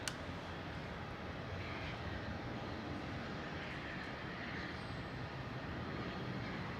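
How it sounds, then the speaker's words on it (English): A Boeing 787 rolls on takeoff at Melbourne International Airport, producing a steady, broad engine roar that holds constant from a distance with no clear rise or fade. "That's with the 78's rolling now."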